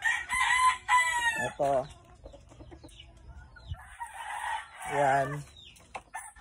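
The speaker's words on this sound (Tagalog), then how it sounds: "Ito na yung manukan natin mga boss." Chickens and roosters in a coop cluck and crow nearby, with repeated loud crowing calls over busy clucking, while someone speaks over them.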